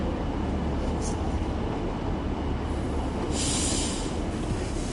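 A train in Train Sim World 6 runs along the Dawlish sea wall, a loud continuous rumble of wheels with brief high squeals as the brakes take hold.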